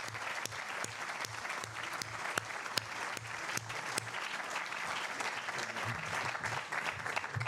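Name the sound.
audience applause for Antonio Escohotado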